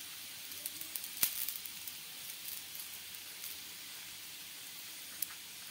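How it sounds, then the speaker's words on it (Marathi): A shahi paneer lachha paratha fries with ghee on a pan over low heat, giving a faint, steady sizzling hiss throughout with one brief sharp tick near the start and no talking. "हे पराठे मी पलटवून घेतलेले आहेत आणि याला मी तूप लावून घेते वरतून"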